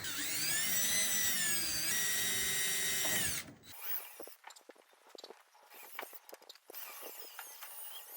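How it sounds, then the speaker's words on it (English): A small power drill with a small bit whines loudly at a steady high pitch for a few seconds while drilling through the center of a part on a 1957 Chevy, then stops, followed by scraping and handling noises. "Got a small drill bit. We're just gonna try to go right through the center of those."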